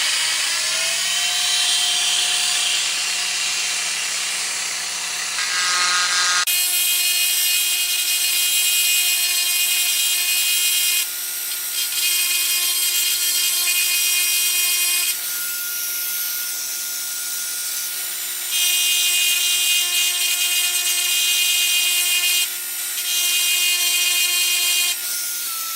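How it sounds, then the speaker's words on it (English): A small spiral Dremel grinding bit carves fine detail into a wooden doll head, giving a steady high-pitched rotary whine with grinding hiss that stops and restarts in several bursts. "this is a very small grinding tool, kind of got a spirally shape to it"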